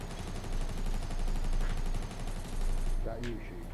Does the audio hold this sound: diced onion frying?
no